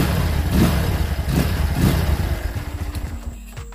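A motorcycle engine fired up and revved after a new throttle cable was fitted, loud and close with several rising revs, then settling into a rough idle.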